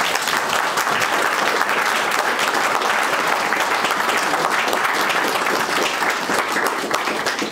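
An audience at a King Alfred Buses centenary celebration gives James a long, loud, steady round of applause, dense clapping sustained without a break and with no talk over it.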